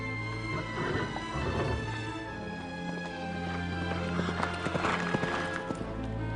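A horse's hooves clip-clop steadily over a dense background of music or ambience, with occasional sharper knocks; no speech is heard.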